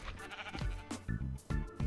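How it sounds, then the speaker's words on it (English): Sheep in the video game Minecraft bleat several times in quick succession, short, close, wavering cries. "Stupid sheep."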